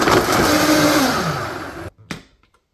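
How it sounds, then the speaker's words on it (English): A blender runs at full speed through a green smoothie with cabbage and water, a loud steady whirring roar that cuts off sharply near the end, followed by a brief clunk. "So now we're going to blend the smoothie up."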